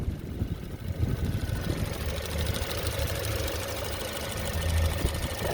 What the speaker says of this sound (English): Turbo engine is sounding smooth as could be